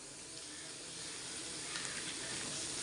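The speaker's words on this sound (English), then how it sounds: "And saute this till the raw taste of the masala goes off." Onion and masala sauté steadily in a pan for mint rice, giving a continuous close, even sizzle with a faint hiss that thickens slightly toward the end.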